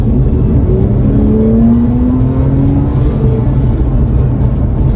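A Porsche 997 Carrera 4S automatic gearbox kicks down during a quick downshift under light throttle. The engine revs climb in a loud, steady, rising sweep that holds close and continuous for the whole stretch, with no talk.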